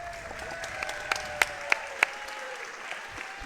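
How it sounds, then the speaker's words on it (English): Steady audience applause for two boxers after a second-round stoppage at a boxing event in Cannock, with a few sharper, louder claps standing out from the continuous clapping. "If we can give both fighters a courageous clap."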